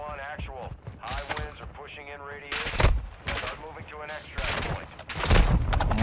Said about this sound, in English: I'm being shot through walls